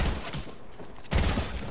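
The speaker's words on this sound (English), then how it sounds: "Just keep shooting." Gunfire rings out during a squad match in a shooting video game, a dense burst of close shots that eases off and then comes back loud, with no talking.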